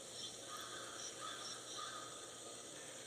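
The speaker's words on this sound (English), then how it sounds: "That crow's making me crazy." Crow caws in recorded outdoor field audio playing in the background, faint and distant, several calls over a steady broadband wash of ambient noise.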